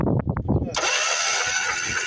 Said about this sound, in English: let's try to crank her over and clear her out